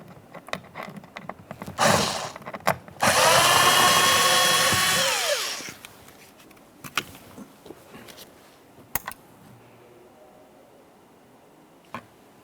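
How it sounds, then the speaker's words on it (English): A power drill backs a screw out of a 2007-2017 Jeep Patriot rear door panel, with a short whir, then a louder sustained whine of a few seconds, followed by light handling clicks and taps. "Start removing our screw."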